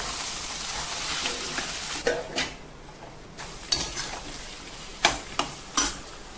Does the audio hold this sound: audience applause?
no